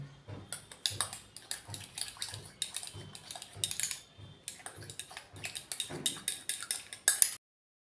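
A spoon clinks and scrapes against a small bowl while coffee powder, egg white and turmeric are stirred into a face mask, quick repeated taps in a steady rhythm with a short pause midway.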